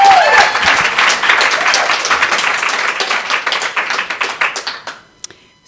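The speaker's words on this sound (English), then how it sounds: "Give her a round of applause." Audience at a live storytelling event applauding the storyteller, a loud, dense burst of clapping that thins into a few scattered claps and stops near the end.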